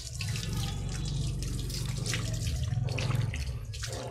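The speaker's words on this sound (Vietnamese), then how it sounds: "Phần xả nước để cho nó sạch cái sữa tắm này là phải rất là kỹ." Running water from a hose or tap pours steadily while rinsing shampoo off a Rottweiler during a bath, a continuous close splashing flow with uneven spatters.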